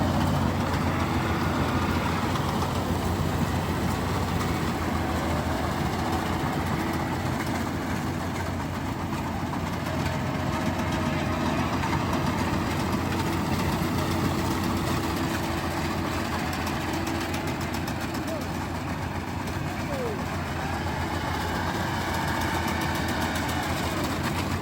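A heavy engine idles in a low, continuous rumble at moderate distance, steady throughout with little change in level.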